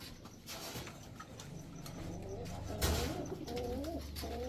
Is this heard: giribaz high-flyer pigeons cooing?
yes